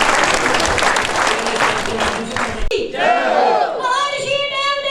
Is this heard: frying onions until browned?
no